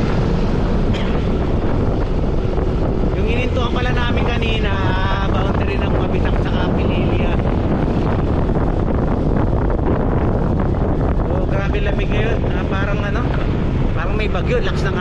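Strong typhoon wind roars and buffets the microphone nonstop in cold weather near an apple plantation on the Mabitac boundary in Laguna, Philippines, with voices talking faintly underneath the constant rumble.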